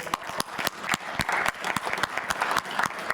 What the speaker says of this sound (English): I'm hoping we can just give them a round of applause for fantastic work.